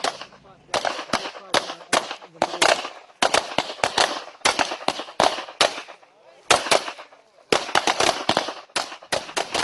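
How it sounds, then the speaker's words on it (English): Firearm shots at a shooting range during armed response officers' assessment, many sharp loud cracks fired in quick rapid strings with short pauses between volleys. "During the shooting range exercise"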